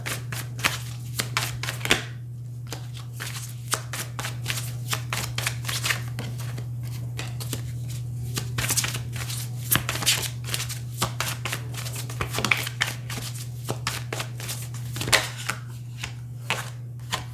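Deck of intention cards being shuffled, a rapid run of crisp papery riffles and snaps in irregular bursts for many seconds over a steady low hum, with no talking.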